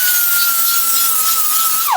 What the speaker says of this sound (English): So I take a grinder, a little air disc,